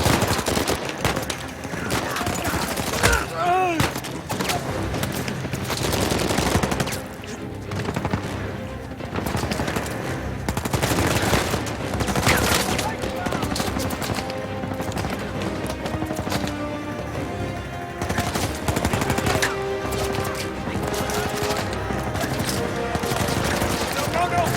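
Sustained gunfire aimed at the player in Uncharted 4, with dense automatic bursts and single shots rattling almost constantly for the whole stretch amid loud combat noise and occasional voices.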